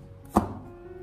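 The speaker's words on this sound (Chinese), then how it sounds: "最后我们再准备少许的葱白，给它直接的改刀切成小葱花。" A single sharp knife chop on a cutting board as scallion whites are cut into small pieces, close and clear, standing alone with a short ringing tail.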